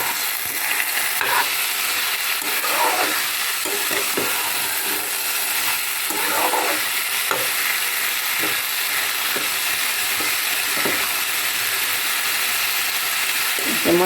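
Peas frying in hot oil in a pan, a constant loud sizzle with occasional scraping stirs and clinks over it.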